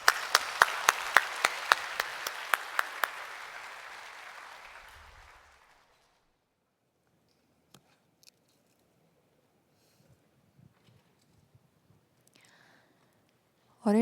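A church congregation in Korea applauds to welcome a deacon to the front, a dense round of clapping with a few sharp claps, fading away over about five seconds into near silence broken by faint scattered rustles.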